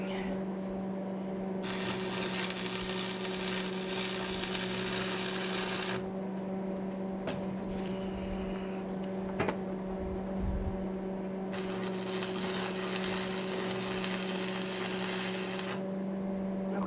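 Tack welds on the corners of a steel horse and mule breaking sled, heard as long bursts of crackling, hissing arc over a steady electrical hum, two main stretches of welding separated by a quieter pause with a sharp clank.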